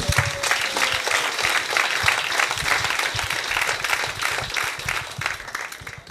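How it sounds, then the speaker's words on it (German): An audience at an autumn street festival in Sachsenhausen applauds a performing group, a dense, sustained round of clapping from a sizable crowd, steady and close for several seconds. "Erstmal ganz zu Beginn einen großen Applaus an die Gruppe Haste Töne vom CCM Okriftel."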